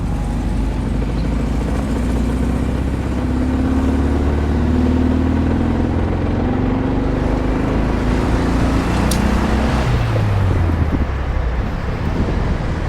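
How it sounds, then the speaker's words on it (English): A 1979 VW Super Beetle engine pulling up a hill in second gear, a loud steady engine drone with rising and shifting tones under heavy wind and road noise inside the car. "Second gear hill climb."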